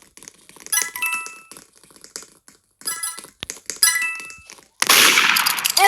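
Gunfire and clinking hits from Roblox Murder Mystery 2 sound as sharp, bright metallic cracks in short bursts with gaps between, ending in a dense burst of loud noise.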